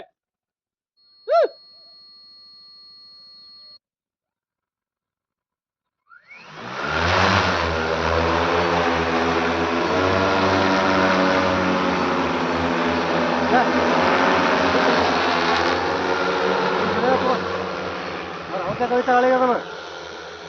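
An agricultural spraying drone starts up and flies with its motors running in a loud, steady, layered buzz that holds for over ten seconds. A short whistle-like tone comes first, followed by a silent gap.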